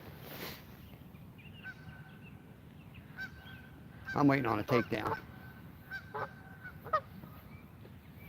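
A goose honks in a burst of several loud, harsh calls, followed by a few scattered single honks at moderate distance, over faint outdoor background during spring carp fishing, with someone briefly speaking.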